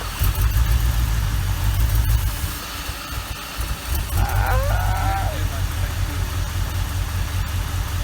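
An old car engine runs after being started on starting fluid or brake cleaner, a low rumbling idle that dips and falters midway before picking back up, with a brief squeal and faint voices.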